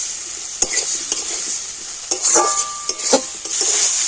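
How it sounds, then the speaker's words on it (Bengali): Fried potatoes are stirred with spices in a hot pan for a vegetarian curry, giving a steady close sizzle punctuated by several sharp scrapes and clacks of the spatula against the pan. "তো আলুগুলো মশলার সাথে একটুখানি কষে নিচ্ছি"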